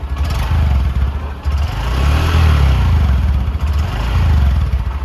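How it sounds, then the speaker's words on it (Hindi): A Honda SP 125 motorcycle exhaust drones loud and close as the engine revs, rising and falling in a steady low rumble with a slight mechanical clatter. "तो ये है इसकी एग्जॉस्ट नोट जो कि आपको पसंद आएगी"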